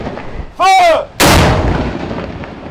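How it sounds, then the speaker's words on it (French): Cannon salute fired from Fort Antoine in Monaco on Easter night: a shouted firing command, then a single loud, sharp boom with a long rumbling echo that slowly fades. "une salve de 42 coups de canon tirés du Fort Antoine"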